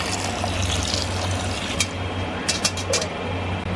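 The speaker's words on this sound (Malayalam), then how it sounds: "ഇറച്ചി വേണം ആവശ്യമായിട്ട് നമുക്ക് വെള്ളം ഒഴിച്ച് കൊടുക്കാം." Water poured onto beef in a cooking pot for Ambur beef biryani, a steady, close splashing pour that runs without a break, with a few small clinks toward the end.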